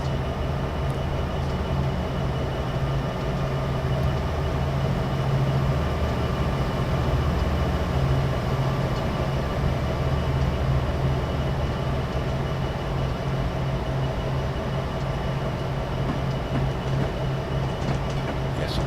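A train rolling past in Train Simulator 2016 on a BNSF run with an SD75 locomotive, a continuous heavy rumble and drone holding steady at a constant level with no pauses.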